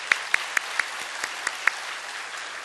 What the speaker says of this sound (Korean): 우리 다시 한번 박수 한번 하겠습니다.